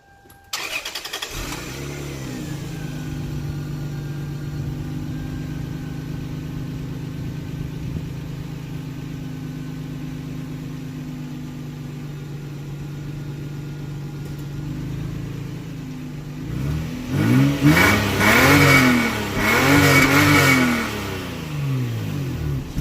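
A Lexus GS300 with its stock muffler starts up and settles into a steady, smooth idle, then near the end is revved several times in quick rising and falling pulls, close and without talk.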